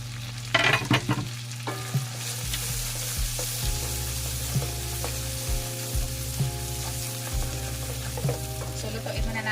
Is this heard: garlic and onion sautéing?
yes